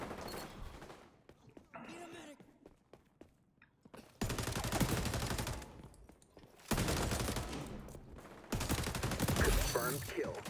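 Gunfire in the video game XDefiant, loud automatic bursts of rifle fire in several separate volleys with short pauses between them.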